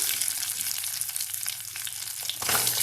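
Shallots and garlic fry in oil in a clay pot, a dense crackling sizzle that stays loud and close throughout, with a brief stirring scrape toward the end.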